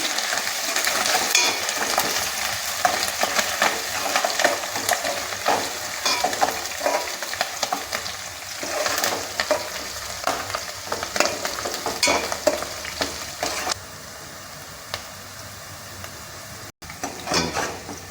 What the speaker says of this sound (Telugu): పచ్చిమిరపకాయ ముక్కలు ఉల్లిపాయ ముక్కలు వేయిపోయినాయండి బాగా